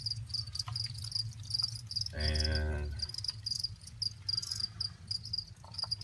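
Crickets bred in a tank chirp steadily in a constant high pulsing trill, close and fairly quiet, with a brief low rumble partway through.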